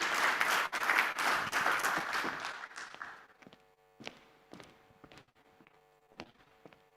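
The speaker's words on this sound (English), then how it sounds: "Round of applause for them, please." Applause for panelists at an energy-week launch event, fairly dense clapping for about three seconds that thins into a few scattered, isolated claps before fading out.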